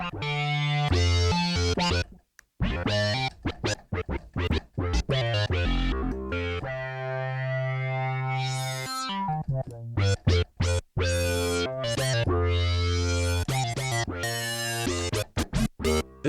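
A Sequential Take 5 synthesizer plays a factory patch with sync, dense buzzy harmonic tones in choppy bursts and sustained notes, bright sweeping pitch rises near the middle, loud and close with no talking.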